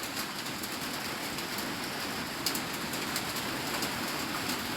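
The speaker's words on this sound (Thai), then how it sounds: "ฝนตก" Steady rain falls in the game PUBG, a constant broadband hiss filling the clip, with a few faint higher taps standing out briefly over the even wash.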